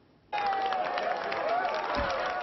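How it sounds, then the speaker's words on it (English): Delegates at a climate summit burst into applause as a deal is reached, broad sustained clapping from a large hall that starts abruptly and holds steady, with a voice talking over it. "Applause and relief that 2 long weeks of negotiation were over"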